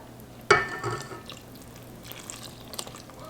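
Two cups of cold water are poured over cake batter ingredients in a bowl, a sudden splashing gush that quickly settles into light trickling and dripping, close and fairly quiet, with no talking.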